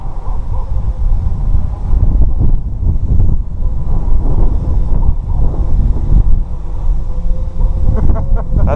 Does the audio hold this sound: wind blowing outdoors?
yes